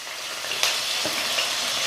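Onions and green chillies frying in hot oil in a pan: a loud, dense, even sizzle heard close up, with a brief crackle burst partway through and no talking.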